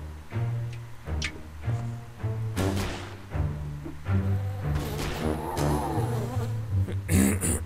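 Steady insect buzzing of a bee from the video game Wallace and Gromit's Grand Adventures, droning close and continuous beneath a bouncy game music bed with occasional brighter flourishes.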